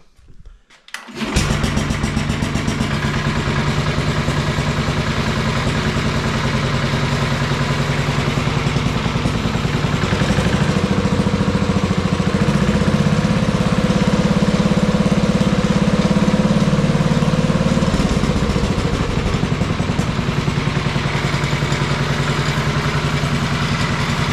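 Sears Suburban 12 garden tractor engine, fitted with an aftermarket muffler, catching after a brief crank and settling into a loud, steady, close-up idle that holds throughout.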